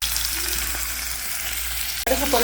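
Mustard seeds and urad dal crackle and sputter in hot oil for a lentil sambar, a dense close sizzle that continues alone, with a sharp burst of louder popping near the end.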